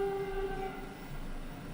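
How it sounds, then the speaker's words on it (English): A train passes nearby, giving a steady rumbling roar with a sustained tonal horn-like hum that fades partway through, continuous throughout with no talking. "Sorry about the train."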